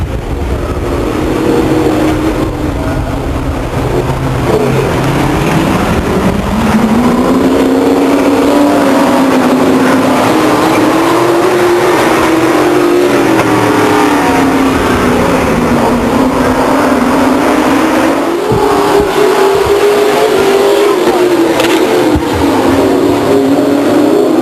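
Stock cars racing at Stockton 99 Speedway in 1999, a loud, continuous engine roar that rises and falls as the field accelerates under green flag, filling the whole stretch without talk.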